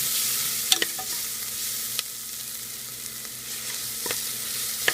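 Onions sizzle and fry in a pan for mutton gravy, with a steady hiss broken by a few sharp stirring scrapes and clicks, close and alone with no voices.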